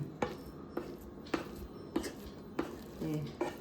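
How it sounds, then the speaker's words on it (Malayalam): A metal spoon stirs beef biryani in a pot, with regular clanks and scrapes against the pot about every half second, close and fairly quiet. "നമ്മുടെ പോത്തും എല്ലാം ഞാനിതൊന്ന് ഇളക്കണേ"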